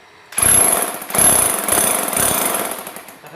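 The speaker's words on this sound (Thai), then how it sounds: "เจาะตรงๆลงไปให้จิกอยู่ แล้วก็สกัดออกด้านข้างนะครับ" A Bosch GSH500 electric demolition hammer chisels into concrete in four loud rattling bursts. Each burst starts sharply, and brief dips separate the bursts. No one speaks.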